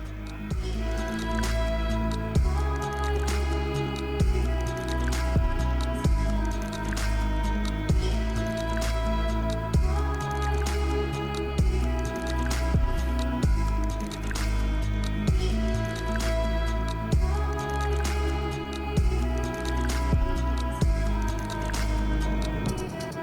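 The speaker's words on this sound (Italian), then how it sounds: "Facendo girare la planetaria al minimo per almeno 30 secondi." A Housnat 1000W planetary stand mixer turns pizza dough at minimum speed, a steady mechanical whir with rhythmic, regularly spaced squishing thumps as the hook slaps the dough, loud and close with no talk.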